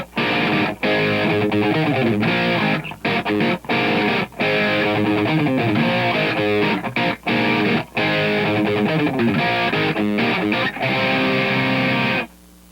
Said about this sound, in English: I've turned the reverb off and turned a lot of the chorusing on to get this sound